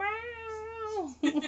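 Alfie, a cat just in from outside, gives a single loud, drawn-out meow that falls in pitch at the end, close to the listener, followed by a brief burst of talking.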